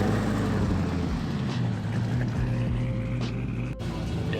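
An AWD Chevrolet C10 truck idles and rolls as it pulls out for a drive, a steady loud engine rumble with a continuous low drone throughout.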